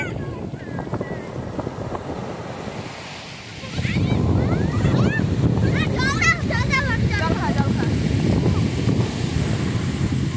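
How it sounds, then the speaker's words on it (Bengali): Sea waves break on the beach at Puri, a loud, continuous roar of surf that swells after a few seconds, with strong wind buffeting the microphone and people talking and calling nearby. "এই পাশটা এই যে সমুদ্র"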